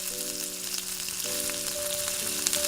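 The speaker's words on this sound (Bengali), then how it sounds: "ওই তেলে আমি রসুন কুচিটা দিয়ে দিচ্ছি।" Chopped garlic dropped into hot oil for chili chicken crackles in a steady, fairly quiet sizzle, with a faint tonal hum running underneath throughout.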